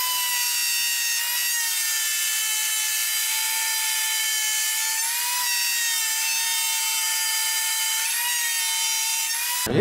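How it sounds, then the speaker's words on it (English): A router on a router table cuts the four edges of a small oak box made with half laps, giving a loud, steady high-pitched whine that runs continuously with slight dips in pitch as the wood feeds through. "with my router table, in the exact setup it was to cut the half laps, I'm gonna cut all four edges"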